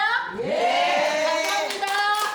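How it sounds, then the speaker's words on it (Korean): An audience at a year-end performance in a senior care center claps, with brisk clapping under lively voices and shouts from the crowd, moderately loud and close. "오늘 여기에 오신 분들한테 박수 많이 쳐주세요."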